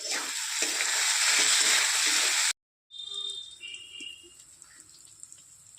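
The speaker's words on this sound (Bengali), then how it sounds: "দেখতেই পাচ্ছ বন্ধুরা চারিদিকে তেল কীরকম ফুটছে" Potatoes fry in turmeric-tinged bubbling oil with a loud, steady sizzle, then a brief cut and quieter crackles and spatters.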